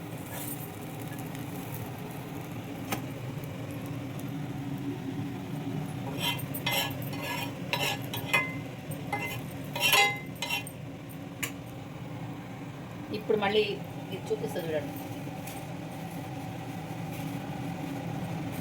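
Onions are stirred and scooped out of a pan with a metal utensil, giving scattered scraping clinks and taps over a steady low background hum.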